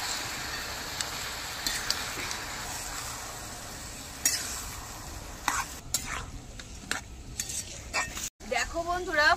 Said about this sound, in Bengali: এই সব উপকরণগুলি তেলের সঙ্গে ভালো করে নাড়াচাড়া করে দেবো